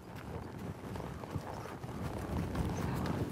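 A colt being led forward from horseback, its hooves clip-clopping in a steady walking rhythm, close and moderately loud.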